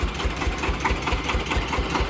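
A DMTZ 180 walk-behind tractor engine idles close by, a steady rhythmic chugging putter with no voices.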